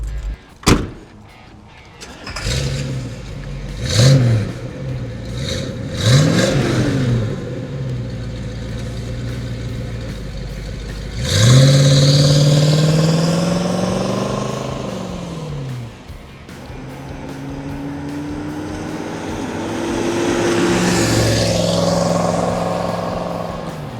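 A 1971 Ford Mustang Mach 1 V8 cranks and fires, then gets several sharp throttle blips and longer loud revs, settling back to a rumbling idle between each burst, recorded up close outdoors.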